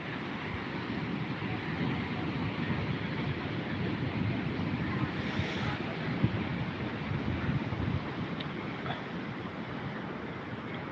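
Ocean waves wash steadily onto a seashore in the morning, a continuous loud roar of surf mixed with wind buffeting the microphone, where small fishing boats come in.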